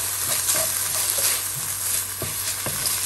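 Stir-fry with sauce sizzling in a hot pan while being stirred, a steady bright hiss with a few scraping clicks of the utensil, close and continuous over a low hum.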